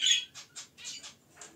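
A young pet Indian mynah gives a string of harsh squawks, one longer call followed by several short bursts, close and moderately quiet with no one speaking.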